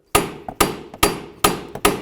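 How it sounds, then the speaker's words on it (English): A hammer strikes metal five times in a steady rhythm, loud and close, each heavy blow followed by a lighter tap, driving bolts through while replacing the right CV axle shaft on a 2000-2005 Buick LeSabre. "Use your hammer, go ahead and drive those through."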